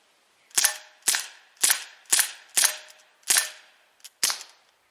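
An ASG Dan Wesson 4-inch CO2 BB pistol fires eight sharp, close cracks in a quick, fairly even rhythm, each shot decaying fast into silence.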